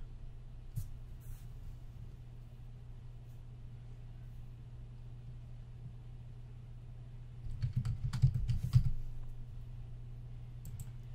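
Keys on a computer keyboard clicking as a password is entered, faint taps scattered over a low steady hum, then a brief burst of quicker keystrokes near the end.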